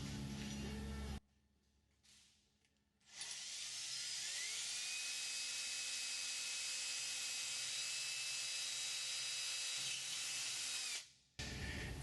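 Power drill turning a long flexible bit while drilling holes in a Sonex aircraft tail kit, a high steady whine running several seconds after short bursts, close and loud, with brief pauses between.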